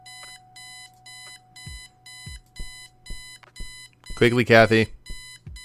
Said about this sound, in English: Turn off the alarm clock. Eileen's obnoxious alarm clock.